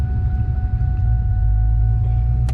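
A cammed Ford Mustang GT with adjusted front BC coilovers drives through city streets, heard from inside as a deep, steady, choppy engine rumble at close range, with a brief higher click near the end.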